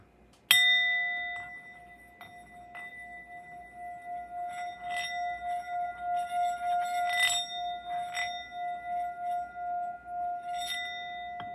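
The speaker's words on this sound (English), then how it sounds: "let's ring the sound bowl at this time" A sound bowl rung near the start with a sharp strike, then a long pure sustained ringing tone that swells and pulses steadily, with a few faint clinks over it and no voices.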